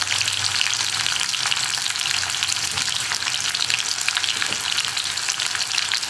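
Whole onions frying in oil in a pan for a vegetable curry, a loud, continuous close-up sizzle with steady crackle throughout and faint stirring, no talking.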